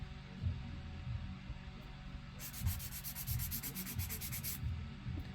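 A fingernail is filed with a 100 grit file in a steady, close, gritty scraping, with a brighter, harsher run of strokes partway through and no speech.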